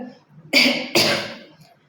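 Two short, sharp coughs in quick succession from a person, loud and close, each with a breathy tail, between brief pauses in speech.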